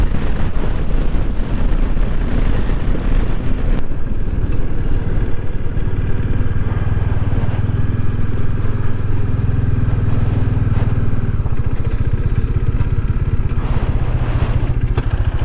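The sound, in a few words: motorcycle riding on the road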